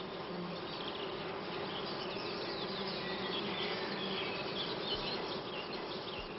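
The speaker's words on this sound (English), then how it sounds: "The parasitized brood is removed by teamwork of several worker bees." Worker honey bees buzz inside a hive in a steady, dense drone that stays even and close throughout, with no voices.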